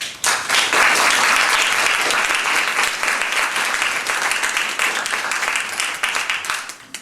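A community-night audience applauds after a presentation, a dense burst of clapping from many hands that rises quickly, holds steady, then gradually thins and fades out over several seconds.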